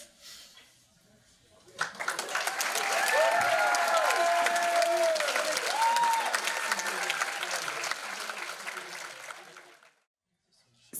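A crowd at a secondary-school talent show applauds four comedians after their final sketch. Loud, dense clapping swells in, holds with scattered cheers and whistles, then fades to silence.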